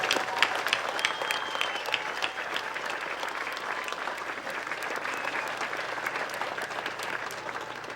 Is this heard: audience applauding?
yes